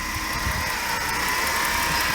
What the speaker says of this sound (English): Sounds like there might be a slight exhaust leak down by the cat.